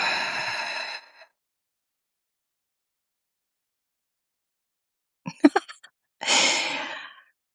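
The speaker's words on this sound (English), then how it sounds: "And exhale." A slow, deep exhale during a guided breathing exercise, a soft airy breath near the microphone, followed by silence, a few small mouth sounds and another long breath out.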